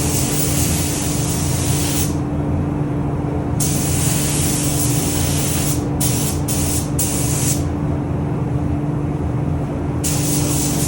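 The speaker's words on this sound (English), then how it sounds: "What I end up doing is spraying at 15 psi, nice light coat, make sure you get all the edges" A spray gun running at 15 psi lays a light coat of paint on a plastic car bumper, a loud continuous hiss broken by several brief pauses and quick bursts, with a steady low hum of a compressor beneath.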